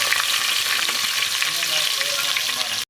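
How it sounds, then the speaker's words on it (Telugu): Large chopped onions fry in a pan with a loud, dense, continuous sizzle and crackle, heard close and alone before cutting off abruptly. "ఒక పెద్ద ఉల్లిపాయ ఒక 2 వేసేసానండి. బాగా అది కొంచెం ఫ్రై అవనివ్వాలి."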